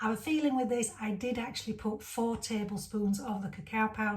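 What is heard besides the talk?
None of the usual background noises is heard.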